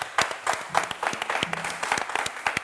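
An audience applauds during a live show, with clapping that is dense and fairly close, rising quickly and holding steady, and no voices heard over it.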